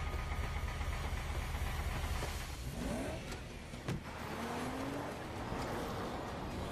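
A car in a horror film produces a sustained engine rumble with a rising whine that sweeps upward, plus a sharp knock partway through, moderately close with no speech.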